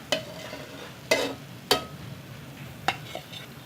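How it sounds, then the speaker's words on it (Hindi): Sweet gulgula fritters fry in hot oil in a kitchen, with four sharp stirring or scraping strokes from a utensil breaking over a soft, steady sizzle. "इसी तरह से हम बाकी जो हैं उनको फ्राई कर लेंगे"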